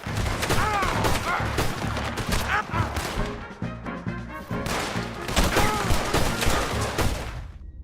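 Sustained gunfire rattles through a Red Dead Redemption 2 shootout, dense overlapping shots and bursts pouring out nearly nonstop, loud and close, with a brief lull midway before the volley picks up again.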